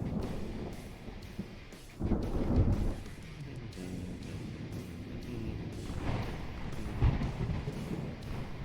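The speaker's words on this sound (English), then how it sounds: "Also the fucking thunder is extremely loud in my ears right now." Thunder in the naval game Ultimate Admiral Dreadnoughts rolls as a low rumble throughout, with a heavier clap around the middle and another swell near the end.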